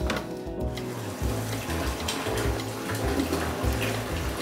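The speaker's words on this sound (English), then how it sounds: "It's important to fill this bucket up at least to 3/4 full." Water from a siphon hose pours into a bucket, a close, steady splashing gush with bubbling that continues without a break.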